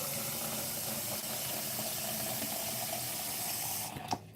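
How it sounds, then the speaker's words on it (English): Water pours steadily from a tap in a constant close rush, cutting off abruptly near the end. "I'm going to keep adding water here while I cook the rice"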